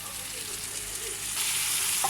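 Green beans and sweet corn fry in a pan with coconut rice, a steady hiss of sizzling running throughout at a constant close level, with a faint stir near the end.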